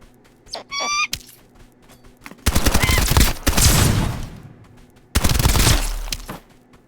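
Gunfire in the video game Escape from Duckov with armor-piercing rounds, loud sustained bursts of rapid shots in two long volleys separated by a short pause, preceded by a brief rising electronic squeal.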